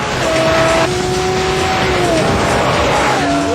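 A Lamborghini Murcielago LP640 V12 accelerating hard, a loud, close engine howl rising in pitch through gear changes with a steady roar throughout.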